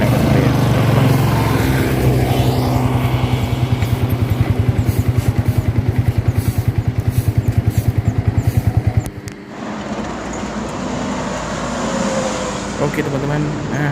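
A motorcycle with a weak battery runs after being push-started, its engine chugging in a rapid, even, loud pulse for several seconds before cutting out, then leaving quieter background hum and ambient noise.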